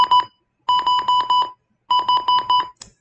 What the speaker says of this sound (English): So it's going to indicate those three beeps.